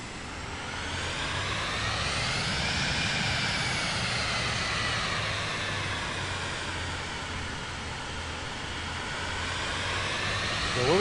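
A Vision Jet G2 taxiing in MSFS 2024, its jet engine whining steadily with a rising and falling turbine tone over a broad, loud rush of noise.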